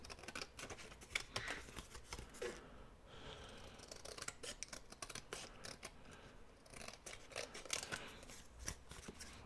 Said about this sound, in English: And now we'll trim this.